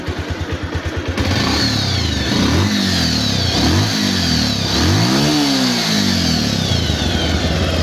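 Bajaj Pulsar motorcycle engine running steadily close by, starting with a rhythmic idle thump before settling into a smooth, continuous hum with a few brief throttle swells.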